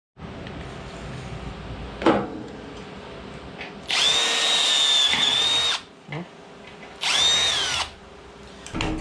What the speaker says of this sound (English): let me start drilling a couple holes in here and see how it goes.